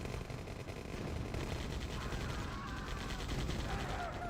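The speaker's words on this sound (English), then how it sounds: "rocket soldiers can shoot from so far away in this game." Rocket soldiers fire in a Tiberian Dawn match, making a dense, continuous patter of small explosive shots and impacts that plays quietly and steadily in the background.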